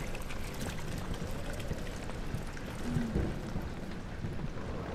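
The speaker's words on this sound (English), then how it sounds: "Hello, Mr. Rain!" Steady rain with a low rumble of thunder swelling near the middle, ambient weather inside the horror game Amnesia: The Dark Descent, continuous and fairly soft with no talk.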